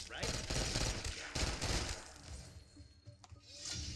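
Rapid gunfire and bursts from a video game, Black Ops 6 Zombies, crackle through the first half, then thin out into scattered shots and game effects.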